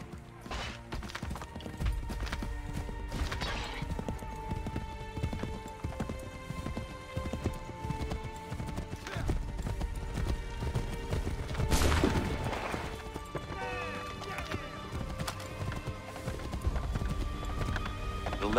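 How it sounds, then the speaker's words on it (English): Steady clip-clop of horse hooves at a brisk gallop in Assassin's Creed 3, loud and continuous, with a busy game soundtrack and ambient noise underneath. "Take that horse, Brother Hangedo."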